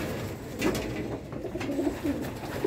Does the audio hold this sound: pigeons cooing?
yes